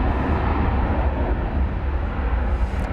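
A loud, steady roar of an Airbus A300 airliner running on an air start unit at DFW, a continuous broadband rumble that fills the whole stretch with no pauses and no talk over it.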